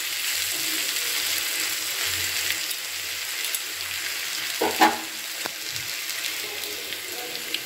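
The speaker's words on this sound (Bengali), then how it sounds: "একটু নাড়াচাড়া করে একটু লাল লাল করে আমি ভেজে নেবো" A Bengali-style mixed vegetable fry sizzles steadily in a pan as it is stirred, with a brief clatter of the utensil partway through and no voices.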